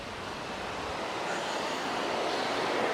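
Water rushes over a small old weir as a steady broadband roar, constant and moderately distant, with no voices.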